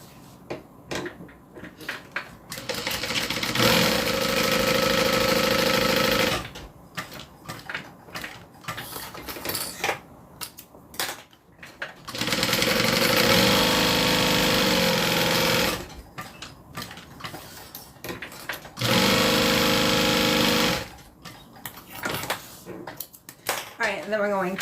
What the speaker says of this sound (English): So I'm going to sew down, across, and up.